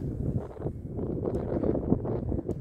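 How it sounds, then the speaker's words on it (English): Gusty outdoor wind buffeting a microphone during CO2 pistol shooting, a continuous low rumbling rush with uneven surges, close and fairly loud, no speech. "this wind is kicking me around, man"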